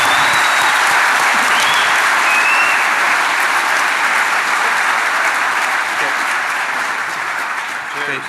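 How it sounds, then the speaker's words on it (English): A large conference audience applauds first-time DEFCON speakers, dense sustained clapping that fills the whole stretch and slowly tapers near the end, with a few cheers mixed in. "Let's give them a round of applause for getting selected."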